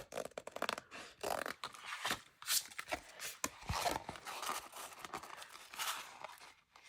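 Scissors cut through a plasticized canvas material in irregular crisp snips and crinkling rustles, with handling noises between cuts, close and fairly quiet.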